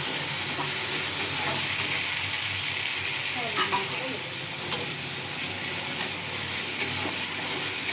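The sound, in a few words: potatoes added to pan with tomato, frying for rui macher jhol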